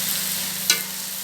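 Chicken for chicken minudo sautés in a pan, a steady quiet hiss with a single sharper spatter or stir partway through.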